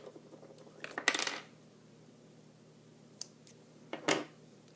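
Scissors snip through knitting yarn, the working strand cut free at the top of a knitted hood being bound off, giving two or three quick close metallic clicks separated by quiet pauses, with no voices.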